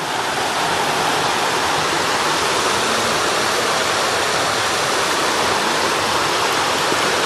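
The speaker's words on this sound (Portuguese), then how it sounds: "Aqui vai ter muito barulho de água também, né?" A waterfall roars with loud, steady rushing water that fills the whole recording, close and continuous with no voices over it.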